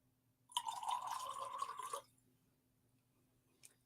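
Water poured into a glass of arak, the anise spirit: a short, bright trickle and splash lasting about a second and a half, close and fairly quiet, followed by a faint single drip.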